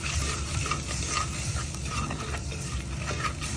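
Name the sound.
chili and turmeric paste stirred into a pan for fish curry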